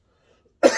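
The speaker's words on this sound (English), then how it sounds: "Sorry if I'm going to cough and sneeze in this." A single harsh cough comes close up and sudden after near silence, from a person outdoors beside a vintage Valor 65C camping stove.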